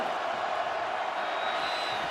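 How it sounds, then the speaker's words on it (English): A football stadium crowd roars for the Seattle Dragons during an XFL game against the Dallas Renegades, a steady, loud mass of cheering and whooping from the stands. "Crowd again getting loud for Seattle"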